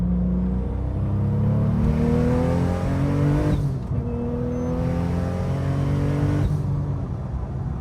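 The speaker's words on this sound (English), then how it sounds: "Just give it a little third gear hit, see what it does." A modified Porsche 911 Turbo accelerates hard in third gear, its engine note climbing loudly and steadily from inside the cabin, with a brief dip at a shift before pulling strongly again.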